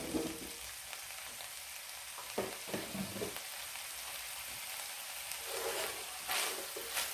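Ground meat sizzling and frying in a PowerXL smokeless grill pan, a steady close crackling hiss with occasional louder pops and stirring scrapes, continuous and without talk.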